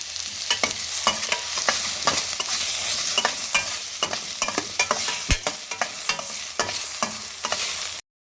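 Chopped tomato fries in a pan for a pea curry, producing a loud, continuous sizzle broken by frequent sharp scrapes and clicks of a spoon stirring against the pan, up close.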